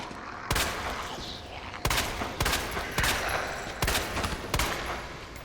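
Sharp weapon shots in the Resident Evil 2 Remake, about six loud cracks at uneven intervals, each standing clearly alone with a steady game ambience between them and no talking.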